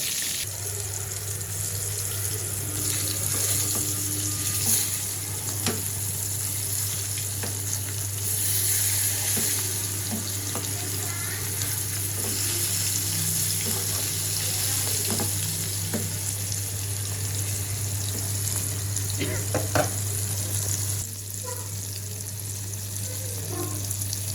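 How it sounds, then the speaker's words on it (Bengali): Fish frying in a generous amount of oil in a pan, a steady close hissing sizzle that runs unbroken throughout, with faint occasional clinks and no talking. "এই যে শুরু করলাম মাছ ভাজা একটু বেশি করে তেল দিছি"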